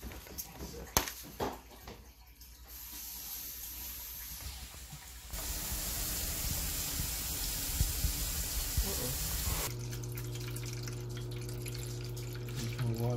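A pet drinking-fountain filter is rinsed under a running tap, giving a steady rushing, hissing flow of water that swells louder midway and carries on to the end, with some handling noise and no talk.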